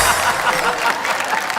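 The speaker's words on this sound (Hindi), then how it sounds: "बज गई तालियां" An audience at an Urdu poetry recital applauds a poet, a dense, steady wash of clapping hands that lasts briefly without a break.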